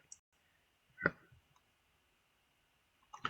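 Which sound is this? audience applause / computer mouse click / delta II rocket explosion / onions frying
computer mouse click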